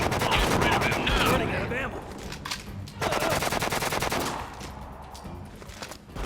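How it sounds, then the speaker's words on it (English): Rapid automatic gunfire rattles in the video game Disaster: Day of Crisis, coming in two dense, loud bursts separated by a brief lull. "We heard gunshots."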